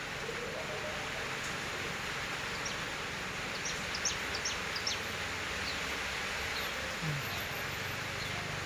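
A dense honeybee colony inside a wooden hive box holding eight active frames gives off a faint, continuous buzzing hum, heard quietly under a soft background hiss with scattered brief chirps.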